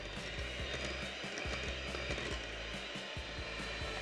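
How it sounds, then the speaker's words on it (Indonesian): An electric mixer beats butter and powdered sugar in a bowl for cookie dough, giving a continuous close motor whir with rhythmic thumps and scraping of beaters against the bowl throughout, no talking. "Sekarang kita mixer sampai lembut sekitar 2 menitan saja."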